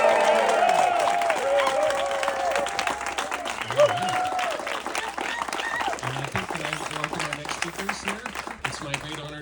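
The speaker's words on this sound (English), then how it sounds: "let's all join together in a big rousing round of applause and cheer for our next city councilor, Waylon Lewis." A crowd at a city council candidate's launch party breaks into sustained applause and cheering, dense clapping filling the room with voices shouting and whooping throughout at steady, loud intensity.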